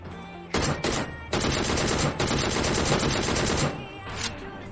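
Rapid automatic gunfire from a DP-28 light machine gun in PUBG Mobile Lite, loud, close bursts of dense repeated shots spread across several seconds with brief gaps between them.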